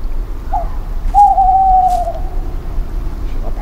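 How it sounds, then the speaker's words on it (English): An owl hoots in the horror video game Veneficium: one short low call and then a longer sustained hoot, clear and fairly loud over a dark, low ambient rumble, with no talking. "Owl."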